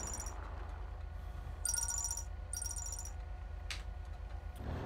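In the video game GTA5, a phone rings with bright electronic bursts: a short one, then two longer repeated rings separated by brief gaps, fairly clear over quiet background hum.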